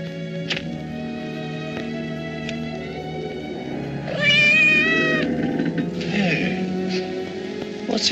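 A cat from the 1944 film Cry of the Werewolf meows several times, with the clearest, drawn-out cry in the middle of the clip. It sounds close and distinct over a steady, hissing background of old film soundtrack.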